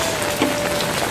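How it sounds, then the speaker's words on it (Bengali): Steady rain falls outside a flooded house during a heavy downpour, a dense, even wash of noise that fills the clip close by with no voices. "এখনও কিন্তু বৃষ্টি পড়ছে।"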